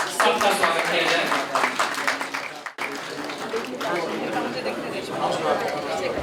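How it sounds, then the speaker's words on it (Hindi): Warm applause from a crowd welcoming everyone at a family get-together, sustained clapping mixed with lively chatter, briefly broken by a short gap before resuming. "तालियों के साथ सबका स्वागत किया जाए।"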